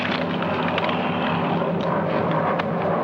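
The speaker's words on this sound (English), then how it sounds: "3 enemy planes approaching from the east." A steady broadband drone of enemy planes approaching fills the air, constant and fairly loud with no clear rise or fall.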